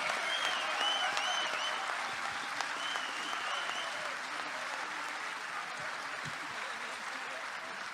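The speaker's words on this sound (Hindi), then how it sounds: "थोड़ी और तालियों का असर।" Sustained applause from a ghazal recital audience, a dense steady patter of clapping that holds evenly and fades slightly toward the end.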